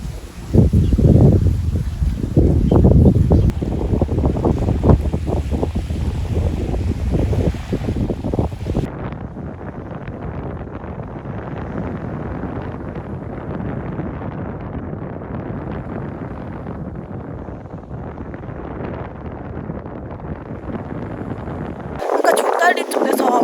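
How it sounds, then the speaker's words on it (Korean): Strong wind gusts buffet the microphone on a coastal walking trail on Jeju's Olle Trail after rain, a loud roaring rush that eases into a steadier, lighter blow, with a voice speaking over it at the start. "진짜 비가 그치니까 바람이 엄청 불고 있어"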